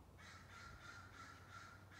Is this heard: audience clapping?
no